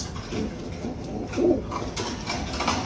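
Pigeons in a backyard flock coo softly and a little distantly, with a few low, rounded calls rising out of quiet ambient background.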